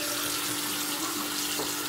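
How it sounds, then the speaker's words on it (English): A household tap runs water into a bathtub or sink, making a continuous, even hiss and splash that is moderately quiet and steady throughout, with no voices. "let me cut the water on."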